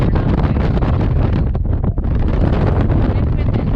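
Strong wind roars steadily across the exposed summit of Mount Washington, buffeting the microphone with loud, dense, unbroken noise that barely dips once midway through.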